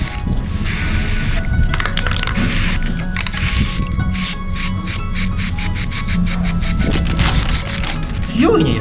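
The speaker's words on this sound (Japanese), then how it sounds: "メキシコのスプレーはなんかちょっと違うね。" Aerosol spray paint hisses in bursts while coating shoes for hydro dipping, with sharp repeated sprays over a busy background and people talking throughout.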